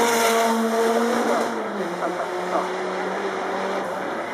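Bentley Continental GTC V8 sports car passes at the Goodwood Festival of Speed with a loud engine note that rises then drops in pitch as it goes by, and crowd noise behind it.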